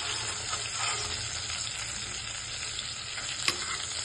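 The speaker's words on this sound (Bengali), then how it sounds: "এই যে মাছগুলো ভাজা হয়ে গেছে, এবার এগুলো তুলে নেব" Prawns fry in hot oil in a pan for a Bengali banana-flower dish, giving a close, steady, dense sizzle with faint crackles and no voices.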